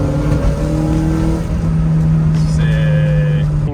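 Toyota AE86 Levin engine droning steadily while driving on a street, a sustained buzzy note with a faint rise in pitch as it pulls, loud and close throughout without any talk.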